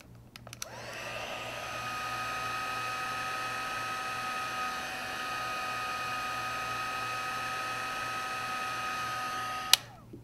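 A heat tool blows steadily for about nine seconds, melting embossing powder from underneath the paper: a loud, even whirring hum with a strong tonal whine, switched on with a click and cut off sharply at the end.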